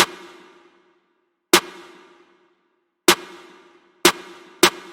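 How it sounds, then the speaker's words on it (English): Trap snare drum pattern drenched in reverb: five sharp, loud hits at uneven spacing, each with a long decaying tail into near silence, no voices. "for our snare, we have the basic trap pattern."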